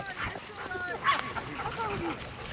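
A dog wearing a GoPro at a dog park gives a few short yips and barks mixed with panting and scuffling, while people talk excitedly nearby over outdoor background noise.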